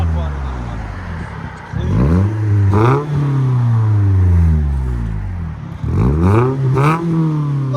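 A 2010 Scion tC 2.4L with a Vibrant Ultra Quiet resonator and muffler delete revs up close in several rising and falling blips, its exhaust note sweeping up and dropping back between pulls.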